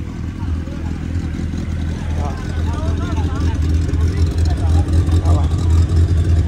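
A Porsche engine holds a deep, loud rumble that swells toward a rev, close by, while people talk excitedly over it.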